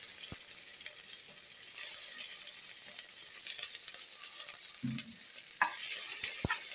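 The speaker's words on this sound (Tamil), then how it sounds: "சேர்த்து நல்லா வதக்கிடுங்க" Vegetables for biryani sizzle and fry steadily in a pan up close, with occasional scrapes and taps of a utensil stirring them.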